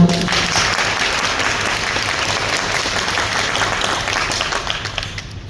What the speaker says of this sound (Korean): 오늘 찾아와 수고해 주실 교수님께 이런 박수 보내주십시오